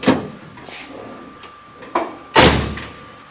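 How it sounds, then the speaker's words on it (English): El Camino passenger door shutting, with a few lighter knocks and clicks leading to one solid, loud slam near the end, heard close up in a shop. "You heard the passenger door shut."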